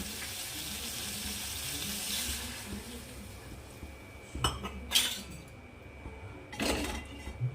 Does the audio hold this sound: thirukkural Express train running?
no